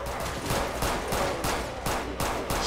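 Rapid bursts of gunfire from gunners in a video game, a steady series of sharp, loud shots roughly every third of a second, close and continuous with no talking.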